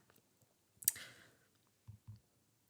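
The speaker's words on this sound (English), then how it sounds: "but I'm going to click that." A computer mouse clicks a few times, quiet and close, with soft scrapes and brief rustles between clicks in a near-silent room.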